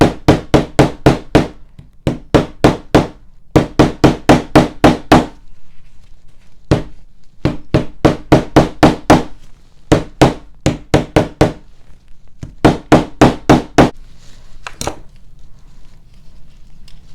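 A hammer strikes acrylic skin laid over an earring form in rapid bursts of sharp, loud taps, grouped in runs of five to eight blows separated by short pauses, with an occasional single knock.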